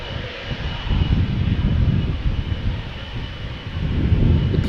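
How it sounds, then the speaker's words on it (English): KLM Boeing 777-200 jet departing Schiphol with a loud, close, continuous engine roar and deep low rumble that pulses in waves, some wind buffeting the microphone and no voices. "KLM flight 879 to Bangalore, which is in India. It's 777-200"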